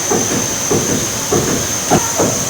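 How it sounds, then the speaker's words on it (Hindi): Beef yakhni broth boils in a pot, giving a steady close hiss with soft, regular bubbling surges about every half second. "यखनी उबल रही है"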